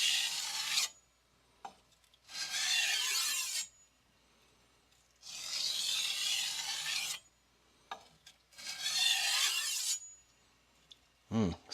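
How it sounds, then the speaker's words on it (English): A Victorinox chef knife blade is drawn along a strop in long scraping strokes, four main passes with short taps in between. The sound is close and quiet, with silence between strokes. "Now we're going to do stropping strokes."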